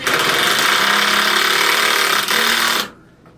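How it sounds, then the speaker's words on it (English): An impact driver drives sharp self-tapping screws while updating a fireplace, giving a loud, continuous rattling hammer for nearly three seconds before it cuts off abruptly into quiet room tone. "you have an impact driver,"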